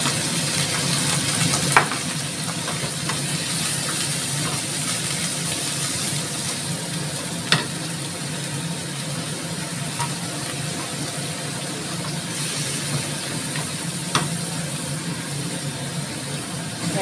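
Water added to a hot frying pan with carrots, a continuous loud hissing sizzle throughout with occasional faint clinks of a utensil.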